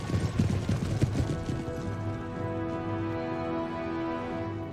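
Cavalry horses' hooves thudding in a continuous busy clatter during an Empire: Total War battle, with a steady low battlefield hum beneath and no talk.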